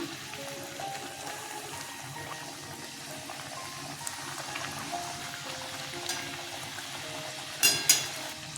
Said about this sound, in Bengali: তেল গরম হয়ে গেছে ছেড়ে দিলাম